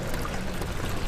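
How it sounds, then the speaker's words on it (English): Continuous watery trickle from dripping water in the game Amnesia: The Dark Descent, a short, even splashing wash with no voices. "And there's water dripping,"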